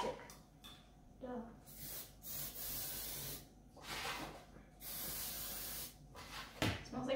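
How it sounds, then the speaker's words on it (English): Non-stick cooking spray hissing onto a baking pan in a home kitchen, several bursts of broadband spray separated by short pauses, close and moderately loud, with people talking nearby. "you should spray it with the non-stick first so that it doesn't stick"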